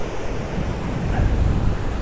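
Ocean waves at sunset wash in as a steady, broad roar of surf, close and fairly loud, mixed with gusty wind buffeting the microphone and no voices.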